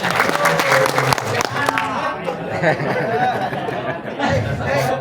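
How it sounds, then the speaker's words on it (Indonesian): Applause breaks out at an Islamic mosque cooperative seminar session, clapping mixed with crowd chatter and a few chuckles, fairly loud and continuous, with people talking over it throughout. "Tepuk tangan buat kita semua."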